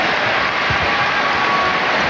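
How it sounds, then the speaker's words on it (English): Madison Square Garden crowd giving Michael Jordan an ovation during his last game there in 1998, a dense, loud, sustained roar of applause and cheering filling the arena without pause. "an appreciative ovation for Jordan"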